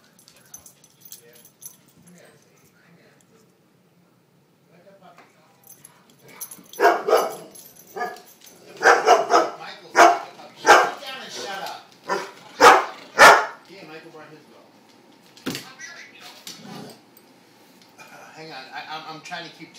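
Two dogs visiting each other bark and yip in a sequence of sharp, loud bursts in the middle, with whimpers and quieter stretches before and after, while a person talks to them.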